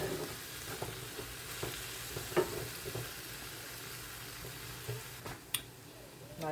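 Zucchini and onion fry in a cast iron pan with a soft, steady sizzle. A few quiet clicks and scrapes of stirring come through, and no one talks.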